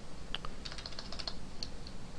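Code being typed on a computer keyboard, a quiet, irregular run of light clicking keystrokes close by over a low room hiss, with no voices.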